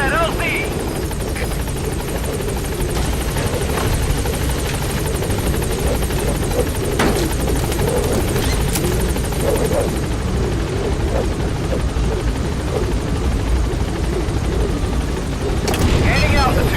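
Helicopter rotor drone from Metal Gear Solid V: The Phantom Pain on PS5, a steady, loud whirring thrum running throughout with radio-style voices talking over it and brief sharp bursts near the start and end.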